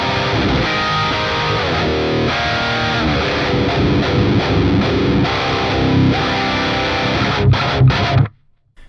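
A heavily distorted metal electric guitar roars through an amp with its master volume eased back slightly, playing dense, chugging riffs loud and up close before cutting off abruptly near the end.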